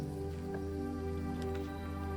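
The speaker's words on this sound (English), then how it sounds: "A nice river noise, though." A river in the game Blue Prince, a soft continuous rush of flowing water with scattered faint drips and splashes, steady and fairly quiet throughout.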